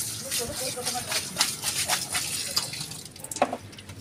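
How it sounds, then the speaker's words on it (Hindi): Water runs and splashes in uneven bursts as produce is rinsed by hand, with a few drips and soft sloshes; quiet and close. "बस ऐसे धो, ऐसे सिर्फ पानी के साथ धोना है"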